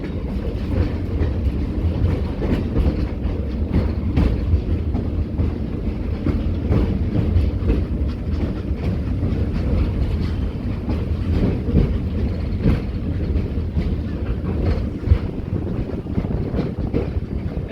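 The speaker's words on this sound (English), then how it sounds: "please stay seated until the train comes to a complete stop" Heritage passenger train ride at Greenfield Village, a steady low rumble of rolling wheels and wind buffeting the microphone, continuous and fairly loud with no voices throughout.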